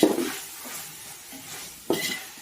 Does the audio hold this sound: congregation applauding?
no